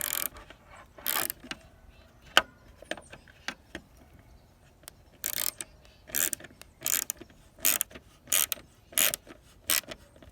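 A 3/8 ratchet tightens a screw on the front grille of a 2006-2011 Ford Ranger, giving repeated short bursts of clicking pawl sounds in a steady rhythm, close and clear, with no talking.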